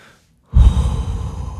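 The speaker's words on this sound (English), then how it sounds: "Oh yeah, don't forget that you're breathing." A single deep breath taken close to the microphone, starting after a short silence and continuing as a loud, breathy airflow that slowly eases off.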